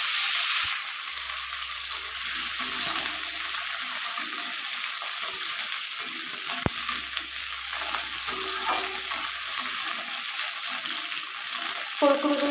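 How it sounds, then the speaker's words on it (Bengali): Cauliflower florets fry in hot oil in a pan, giving a steady, even sizzle with a few faint stirring knocks. It is moderately loud and continuous, with no talking over it. "দেখো ওই তেলে আমি দিয়ে দেবো এখন ফুলকপি।"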